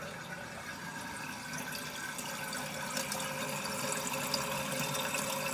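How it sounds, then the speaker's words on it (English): Water steadily rushing into a TOTO toilet tank after a fill valve replacement, a continuous hissing, splashing flow heard close up with no talk. "The water filling the tank."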